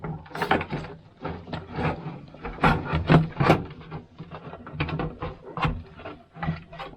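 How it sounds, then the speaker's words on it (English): Screws being driven by hand to fasten a computer power supply unit into a PC case, heard as repeated close scraping, rubbing and creaking turns in uneven bursts, with no talking. "Put the 4 screws to fix the power supply unit to the case."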